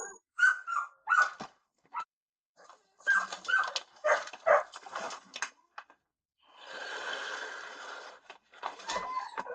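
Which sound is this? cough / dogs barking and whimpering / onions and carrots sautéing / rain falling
dogs barking and whimpering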